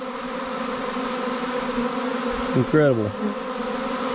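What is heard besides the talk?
honeybee swarm buzzing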